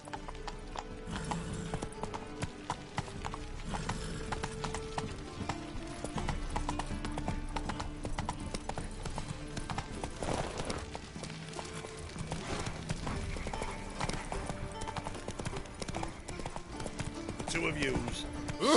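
Roach, the horse in The Witcher 3 video game, clip-clops steadily in a continuous hoof rhythm with an occasional whinny, set beneath game music and voices talking throughout.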